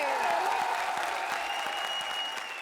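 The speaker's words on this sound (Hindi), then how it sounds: "लेकिन उससे पहले तालियां चुड़ैलों को लाफ्टर किराए पर देने वाली अर्चना पूरन सिंह के लिए" Studio audience applause on a comedy show stage, moderately loud and continuous, with a sustained tonal music or effect line running beneath the clapping.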